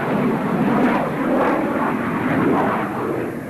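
AV-8B Harrier jet aircraft flying, a loud, steady broadband engine roar that holds without pause, with no voices.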